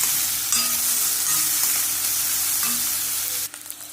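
Onions frying in a pan until golden brown, a loud steady sizzle with occasional stirring clicks, cutting off abruptly near the end.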